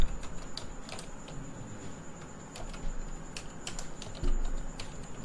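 Code being typed on a computer keyboard, with a quick, uneven run of close, crisp key clicks and a heavier thump near the end, and no talking.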